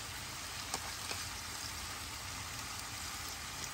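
Tomato hits a hot pan of beef shank ossobuco, giving a soft, even sizzling hiss with a couple of faint pops and no voices.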